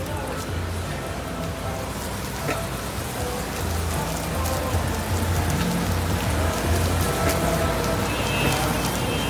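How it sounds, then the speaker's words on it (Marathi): Heavy rain pouring down in New York, a dense steady hiss of drops drumming on surfaces that swells a little louder midway, continuous and close throughout. "पण हेवी पाऊस पडतोय"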